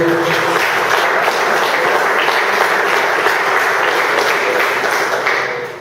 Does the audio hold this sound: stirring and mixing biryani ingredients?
no